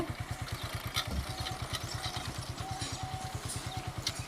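A motorcycle rigged for pesticide spraying runs slowly along a road, its engine a faint, steady low putter with an even rhythm.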